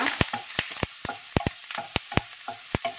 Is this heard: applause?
no